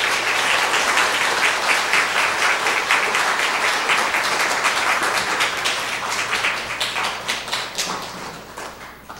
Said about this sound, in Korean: 맨 마지막에 그럼 다 같이 우리 저기 박수로 부탁하겠습니다